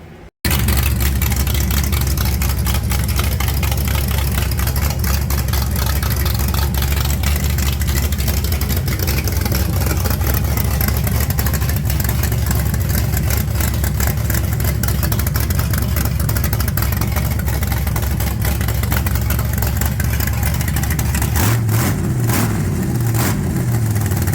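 A Pontiac Trans Am engine idling with its turbo removed, a continuous loud, rough rumble that holds steady throughout, with a slight change in the low drone near the end.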